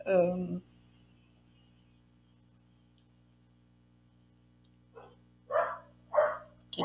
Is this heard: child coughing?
no